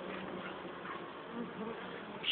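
A steady close swarm of honeybees buzzes at a hive being moved, a continuous drone heard alone.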